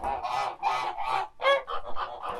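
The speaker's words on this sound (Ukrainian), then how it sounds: "От наші гуси." Several geese honk in quick succession, loud nasal calls overlapping in a short burst, close by with no talking.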